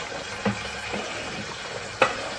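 Chopped spring onion tossed into a sizzling pot of Jamaican curry goat, a soft steady cooking hiss broken by two brief utensil knocks against the pot.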